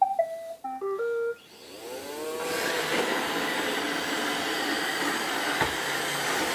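An iRobot Roomba 692 robot vacuum on carpet strewn with protein powder plays a short melodic start-up chime, then runs with a steady, close whirring of motor and brushes that holds for the rest of the stretch.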